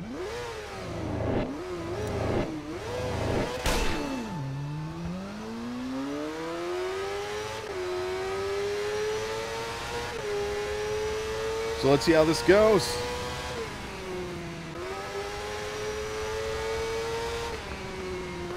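In the TT Isle of Man racing game, a motorcycle engine revs up and down in several quick blips, then pulls through long rising gear runs with a buzzy, climbing whine. Game sounds play loud and close, with someone talking briefly near the start.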